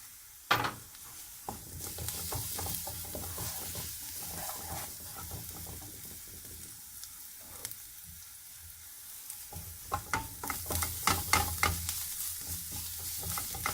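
Kebab mixture of spiced meat with salt, chili powder and paprika is stirred briskly in a hot pan, with steady sizzling frying and a run of scraping, clattering strokes growing busier near the end, no voices.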